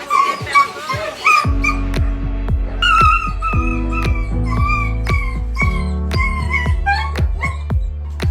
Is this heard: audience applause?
no